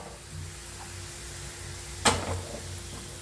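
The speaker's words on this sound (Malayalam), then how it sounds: "അപ്പൊ നമുക്ക് ഇനി കറി ഒഴിച്ചു കൊടുക്കട്ടോ" Curry poured into hot coconut oil in a Kerala kitchen gives a sudden sharp sizzle that flares and then settles. Before it, only a low steady background hum is heard.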